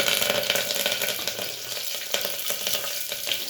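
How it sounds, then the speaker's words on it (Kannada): Mustard seeds, curry leaves and onion frying in hot oil for a tempering, a steady loud crackling sizzle with bursts of popping, no voices. "ಸ್ವಲ್ಪ ಈರುಳ್ಳಿ ಬ್ರೌನ್ ಕಲರ್ ಬರೋ ತನಕ ಸ್ವಲ್ಪ ಫ್ರೈ ಮಾಡ್ಕೊಬೇಕು"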